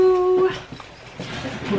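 A dog whimpers and whines in a home, producing short high-pitched cries with faint background noise between them.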